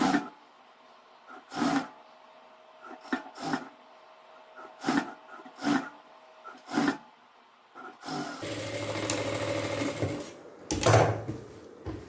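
A sewing machine stitching chudidhar fabric in short bursts of rapid, close mechanical clatter separated by pauses, followed by a longer stretch of rustling and handling noise, with no talk.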